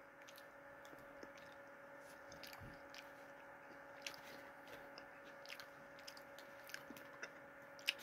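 Faint, close chewing and biting on a fried chicken TV dinner with Southwest-style sauce, soft crunchy and moist bites scattered irregularly over a steady background hum, with no talking.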